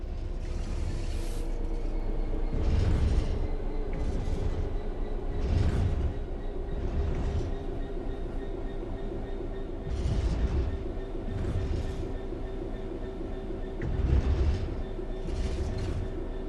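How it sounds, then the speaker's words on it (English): A train in the video game Train Sim World 3 coasts steadily along level rails with a constant low rumble and periodic rhythmic clatter of wheels, no voices. "The train will then coast on level ground"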